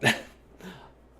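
A dog gives one sharp, loud bark, then after a short pause a softer second bark or yip trails off, close by and with no talking.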